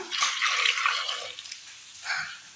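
Water pours into a pressure cooker holding washed tender jackfruit and a little salt, a bright rushing splash that fades, then a short second pour.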